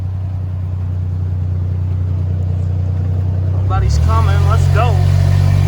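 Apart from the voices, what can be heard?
the 51 car driving on the highway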